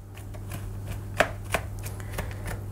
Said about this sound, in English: I'm just going to get a knife and a chopping board and chop these up into fine pieces.